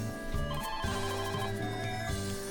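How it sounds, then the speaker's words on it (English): The delivery phone rings in the visual novel Mahoyo, an electronic telephone bell trilling in repeated bursts, loud and up front, against a continuous layered backdrop. "Their banter was interrupted by the delivery phone."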